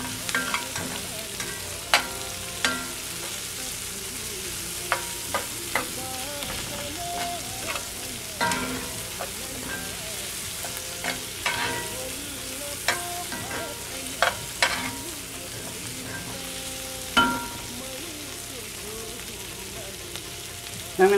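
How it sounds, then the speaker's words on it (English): Garlic and ginger frying in a pan, a steady crackling sizzle throughout with scattered sharp pops and occasional stirring clicks, close and fairly quiet, with no talking. "we'll let this cook for a couple minutes to allow the garlic and ginger"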